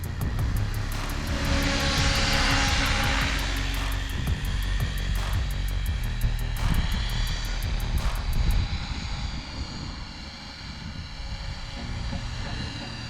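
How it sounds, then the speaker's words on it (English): A Trex 500X RC helicopter flies nearby with a loud, continuous rotor and motor whine. The tone shifts in pitch as it moves and fades a little toward the end. "I also want to be comfortable with the heli flying a little further distance away from me"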